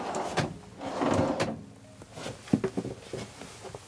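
Cutlery drawer closing in a premium German LMC Cruiser T732 motorhome: a soft slide followed by a few light knocks and clicks, close and fairly quiet, with no talk over it.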